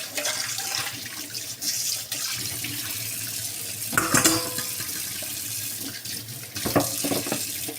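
Water pours steadily into a pot of Romanian goulash, a loud rushing splash that swells and dips, with a few clanks of the vessel.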